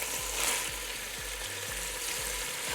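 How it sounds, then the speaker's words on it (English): Meat for a Mexican carne en su jugo browns in a pan, giving a steady close sizzle and crackle throughout with a faint low hum underneath and no voices. "go ahead and stir as needed and allow it to brown evenly on all sides"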